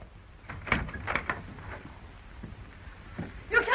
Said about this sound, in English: Open that door, monsieur.